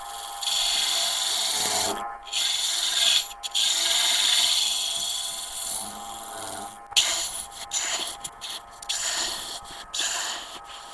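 Steady rasping scrape of a detail tool cutting wood on a spinning lathe, close and loud, with brief pauses and shorter cuts toward the end.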